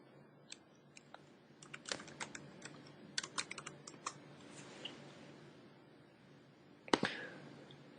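A search term is typed on a computer keyboard, producing a close run of light, irregular key taps with a pause and then a louder click near the end, in a quiet room.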